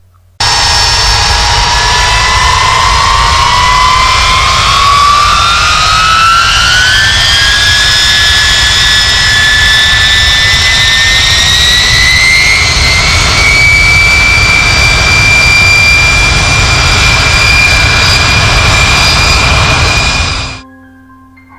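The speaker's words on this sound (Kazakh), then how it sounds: "Уақыт сайын бұл жерде терең реактивті ұшақтың гуілдеуі естіледі." A deep, continuous jet-like roar with a rising whine holds steady and loud for about twenty seconds, then cuts off abruptly.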